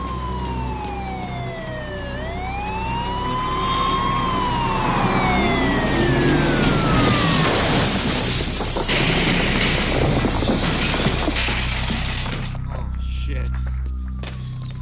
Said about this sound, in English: a police car comes barreling through the intersection, crashing its way right into the department store.